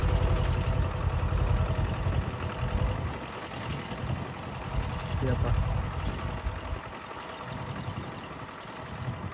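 A tractor engine rumbles steadily nearby, a low continuous drone, with people talking faintly underneath it.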